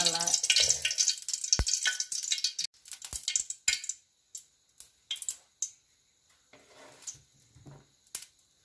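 Onions dropped into well-heated oil for vegetable and egg puffs sizzle in a bright burst at first, then fade into scattered crackles and pops nearby.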